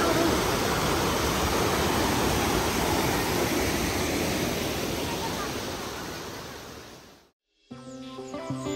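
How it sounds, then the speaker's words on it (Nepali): Waterfall water pouring down near the Kali Gandaki in Mustang, Nepal, makes a loud, steady, close roar for about seven seconds. It then cuts out abruptly, and a voice follows. "झरनामा यस्तो छ पानी है"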